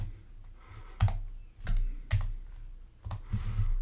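A course code is typed into a college registration page on a computer keyboard, heard as a few separate clusters of clicky keystrokes with pauses between them, close and fairly loud.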